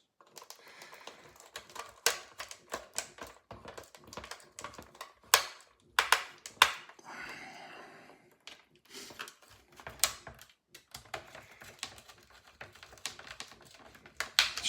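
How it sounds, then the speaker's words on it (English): Small screws are driven by hand into a PlayStation 1 laser assembly, a close, quiet run of irregular clicks, ticks and scrapes with short pauses between bursts. "Screws going in."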